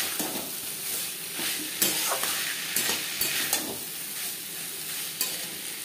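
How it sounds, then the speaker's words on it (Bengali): Potatoes and masala being stirred in a pan for a silver carp fish curry give a continuous close sizzle, with frequent scraping strokes of the spoon and occasional sharper clicks against the pan. "মশলার সাথে আলু বেশ ভালো করে মিক্স করে দেবো"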